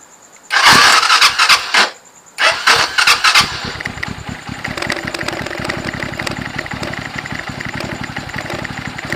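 A car engine, its starter newly wired through a Honeywell switch, cranks loudly in two bursts with a pause between, then catches and settles into a steady, close idle with no talk.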